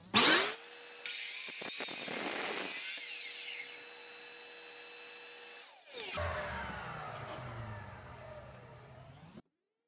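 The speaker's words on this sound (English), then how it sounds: "Shop vac going." A shop vacuum runs as a steady whine while a saw cuts wood on a bed frame build, with a sharp start, a sustained drone, and a second rough, fluttering stretch before it stops abruptly.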